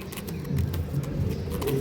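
A pigeon gives a brief, low, throaty coo, close and soft, over a quiet background.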